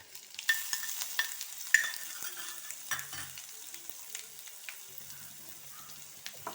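Crushed garlic and green chilli paste frying in a pan for a pumpkin side dish, a soft, quiet sizzle broken by scattered scrapes and clinks of stirring, with no talking.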